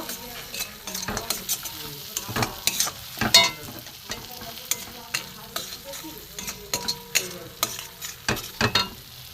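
Spice masala for Kashmiri paneer fries in oil, a loud, close sizzle cut by frequent scraping and clattering strokes of the spoon as it is stirred steadily.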